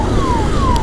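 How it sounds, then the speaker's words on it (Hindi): An ambulance siren sweeps downward in pitch twice in quick succession on a rainy road near Bangalore, loud and close over steady traffic and engine rumble. "एम्बुलेंस को साइड दो भाई"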